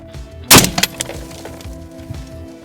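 An AR-15 fires a 5.56 solid copper round into a car windshield, giving one sharp loud crack of impact and shattering glass, followed by a few fainter ticks and settling debris.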